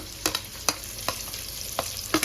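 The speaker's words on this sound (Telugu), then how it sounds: "ఆనియన్స్ ఇవన్నీ ఫ్రై అయిపోయాయి" Sliced onions and green chillies frying in a pan with mint and coriander for chicken mandi, a steady sizzle broken by several sharp scraping stirs at an uneven pace.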